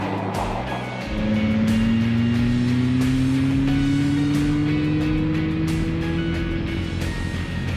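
A 2023 McLaren Artura drives on a track as its engine note rises smoothly and steadily after a brief lull, loud and sustained from inside the car, without talk.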